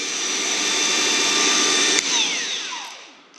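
Milwaukee M12 cordless nibbler running at speed 5, a steady high-pitched motor whine held for a couple of seconds before spinning down, close and alone.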